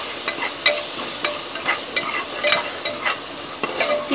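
Masala of red chili powder, dry mango powder and coriander powder fries in a pan. A close, steady sizzle runs throughout, punctuated by repeated scraping knocks as a spoon stirs it.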